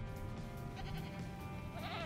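Goats bleat in the Jurassic World Evolution video game, a steady wavering animal cry over a busy game backdrop, with a higher bleat rising near the end.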